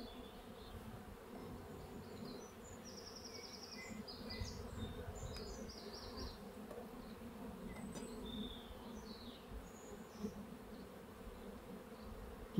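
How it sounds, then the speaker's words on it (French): Honeybees buzzing steadily during a transfer from a mini-plus hive to a Warré hive, a dense, continuous drone with individual bees zipping past close by, no voices. "Maintenant les abeilles, vous allez voir, elles commencent à se dispatcher à gauche et à droite."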